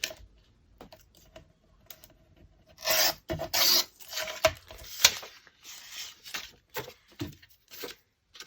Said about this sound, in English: I'm just going to tear that one down.